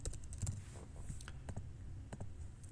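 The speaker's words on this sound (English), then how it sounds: "I'm just typing this in for easy purposes" Typing on a computer keyboard while entering a street address into a job-scheduling website, a quick irregular run of close, light key clicks with short pauses, no talking.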